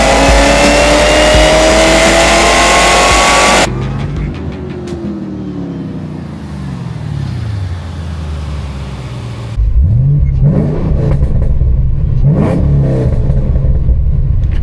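Fifth-generation Chevrolet Camaro ZL1 on the move, its engine loud and close. It revs hard through rising gear pulls, eases into a lower, lighter cruise, then roars back up with repeated sharp throttle blips.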